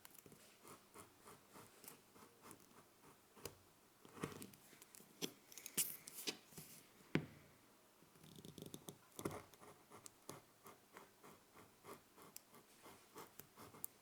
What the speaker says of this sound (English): trim the excess off this strap